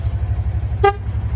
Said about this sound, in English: Give that horn a little honking.